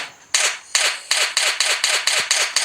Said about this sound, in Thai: อ่าเสียงปืนแรงเกินไปเดี๋ยวต้องเอาลงก่อน